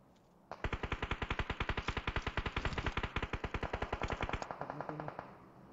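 Rapid automatic gunfire from a video game, a long unbroken burst of evenly spaced shots lasting about four seconds, loud and close with no talk over it.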